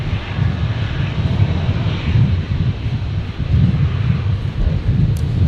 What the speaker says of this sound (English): do have a Virgin 73 on final here